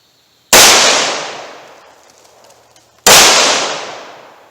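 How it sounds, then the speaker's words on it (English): Two sharp, loud .38 Special +P gunshots firing Remington HTP rounds, spaced about two and a half seconds apart, each followed by a long ringing decay into near silence. "I'm going to run 2 rounds of Remington HTP"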